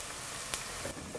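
Chopped onion rings sizzling and frying in hot oil for a Turkish-style bulgur and turkey pilaf, a steady close crackle with a few brief pops and no voices.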